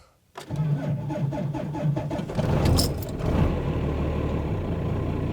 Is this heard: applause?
no